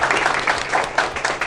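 Audience members at a Bitcoin Diamond meetup applaud, producing a short burst of dense clapping from a crowd at moderate volume.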